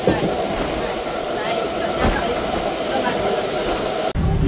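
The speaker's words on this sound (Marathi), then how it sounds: "भरपूर ट्रेनचा प्रवास चला" A passenger train carries people through monsoon rain, with a loud, constant rumble of carriages and wheels throughout and faint indistinct voices mixed in.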